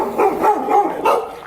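Dogs bark in a neighborhood in Belize, four or five quick, fairly loud barks and yips in a rapid burst, close by, with no talking.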